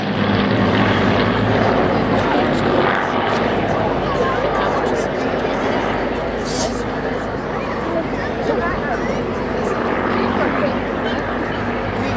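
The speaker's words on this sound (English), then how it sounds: "So the Hurricanes are on the wings. Spitfires left by Mark 16 in the center on the center line." Hawker Hurricane and Spitfire Mark 16 propeller aircraft at the Cosford air show, a steady loud engine drone that holds throughout with crowd noise and talk mixed underneath.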